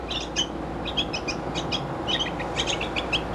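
Small caged birds chirping and tweeting in quick, overlapping bursts, close and fairly loud over a steady indoor background hum.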